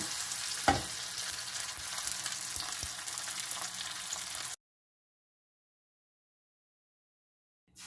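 Chilies sizzling in a pan as they are turned over, a loud steady frying hiss with a sharp clatter near the start and small knocks, then the sound cuts off into silence.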